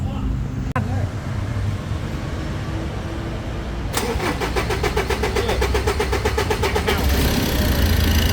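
A Ford Ranger engine with a weak battery cranks and catches, then is held at raised revs in a steady, loud mid-pitched drone that builds after a few seconds, with some talk underneath.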